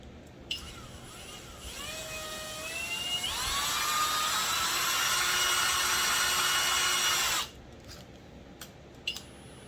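A power drill or driver whines as it drives a screw in, pitch rising as the motor spins up, holding a loud steady whir for several seconds, then stopping abruptly, followed by a few faint clicks.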